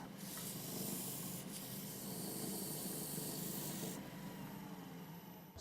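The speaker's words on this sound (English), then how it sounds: "So that's the sanding done" Steady abrasive sanding against a wooden bowl spinning on a lathe, a continuous close rasp with a brief change partway through and no talking.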